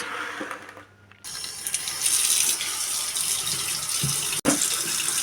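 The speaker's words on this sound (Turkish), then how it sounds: "Güzelce şöyle karıştırarak bol suda yıkıyoruz" Running tap water gushes steadily into a sink as pears are washed in plenty of water for pickling, loud and close, following a brief quiet moment and ending with a splash.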